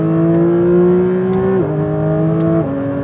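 Porsche 911 GT3 RS on a race track, its engine held at a strong, steady pitch, then dropping twice in quick steps like upshifts, loud and close throughout with no voices.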